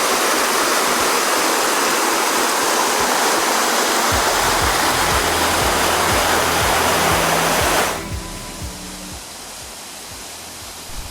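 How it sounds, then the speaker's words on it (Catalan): A mountain stream rushes down small waterfalls in a loud, steady roar of water that dominates for about eight seconds, then drops abruptly to a quieter wash of flowing water. "Baixa amb força per aquestes cascades"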